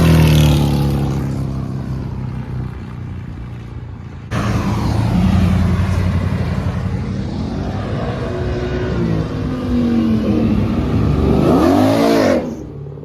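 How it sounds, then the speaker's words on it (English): Muscle cars pull out of a Cars and Coffee meet. Engines roar and rev hard as they pass close by in a continuous loud rush, with a sharp rise in intensity partway through and a deep, swelling pass near the end. "it seems like some people are doing accelerations"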